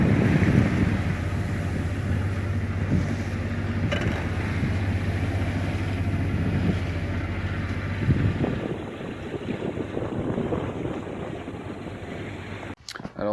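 A sailboat's engine drones steadily at sea under strong wind buffeting the microphone and rushing water, then the motor hum drops away and the wind carries on.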